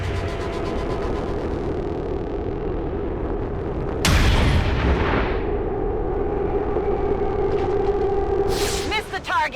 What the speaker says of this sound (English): Sharpshooter West then takes aim herself on a reaction shot